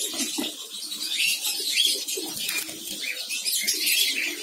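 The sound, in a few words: finch birds moving in an aviary breeding cage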